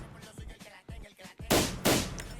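Combat pistol shots from a FiveM video game sound pack, several softer shots followed by two loud, sharp close blasts with short decaying tails.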